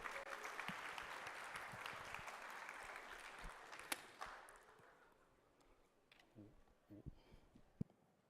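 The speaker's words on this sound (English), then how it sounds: "Please give your applause" Conference audience applause swells as a dense crowd of clapping for several seconds, then thins into scattered individual claps and faint murmur, fairly distant and quiet.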